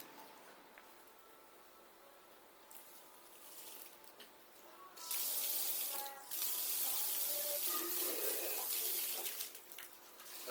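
Tap water runs loudly into a bike water bottle at an outdoor stop during an e-MTB ride in the Black Forest, starting after a quieter stretch and pouring steadily near the mic with brief pauses.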